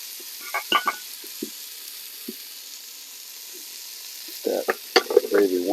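Gravy warms and fries in a pan at a campsite, giving soft crackles and sizzling pops, sparse at first, then a denser burst of bubbling sizzle near the end.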